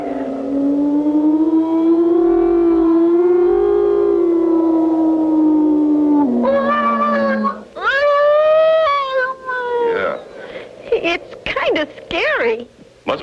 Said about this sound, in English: Must be the wind blowing around the tower.